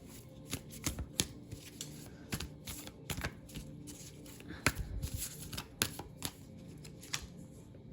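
Tarot cards being shuffled by hand, a quiet close series of irregular crisp flicks and riffles spread across several seconds with no talk.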